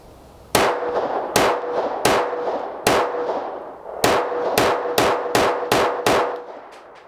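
A Ruger LCP II .22 pistol fires Federal Punch 22 rounds in a string of ten sharp, loud reports. The first shots are spaced out and the later ones come faster, each with a short ringing tail. No one speaks.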